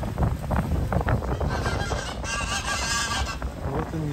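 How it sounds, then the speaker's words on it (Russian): Geese honk repeatedly near waterside restaurants at the Akyaka resort in Turkey, with close, loud overlapping calls over a steady background of wind and outdoor noise. "Здесь гуси и утки, попрошайки у ресторанов."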